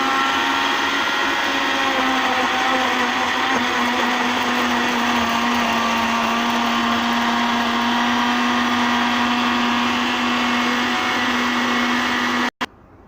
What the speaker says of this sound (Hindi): इन्हनि खे हाणे असां कयूं था ब्लेंड